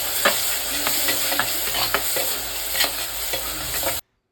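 Ginger, garlic and green chillies sautéing in oil in a pan for Kerala-style kappa biryani, a steady close sizzle broken by repeated scraping stirs of a spoon.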